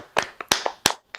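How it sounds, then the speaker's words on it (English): A few people clap in short, uneven bursts, close and loud, a brief round of applause with no talk. "Give everybody here a round of applause."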